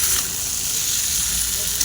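Pre-fried cauliflower hisses in a hot wok, giving a steady, bright sizzle close up as it is stirred, with no voices.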